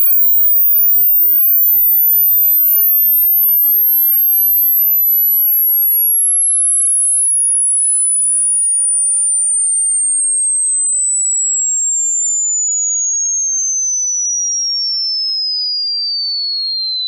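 A pure, steady sine tone sweeps smoothly downward from very high pitch to a high whistle, loud and alone throughout.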